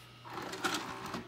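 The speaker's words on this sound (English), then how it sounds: "Let's eject it, show you that the tape was not eaten." An Admiral JSJ-20434 VHS VCR ejects a tape with a short whirring mechanical motor run and a soft clunk near the middle, close and quiet.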